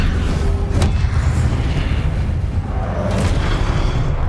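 Deep booming blasts from the Confringo fire spell in Hogwarts Legacy, loud rumbling explosions rolling continuously with a sharp crack near the start.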